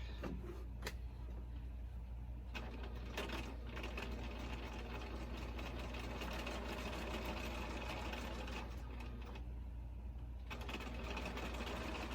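Sewing machine stitching fabric scraps together for a quilt block, a steady motor whir with rapid needle chatter running continuously, close and even, with a couple of brief pauses.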